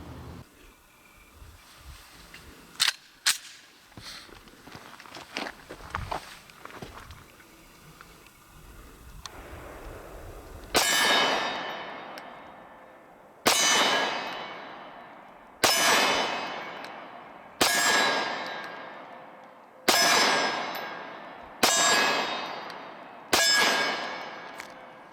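A Walther PPS M2 9mm pistol fires Sig Sauer rounds at steel targets outdoors, with six sharp, loud shots at even intervals after a stretch of quieter clanks and ambient noise.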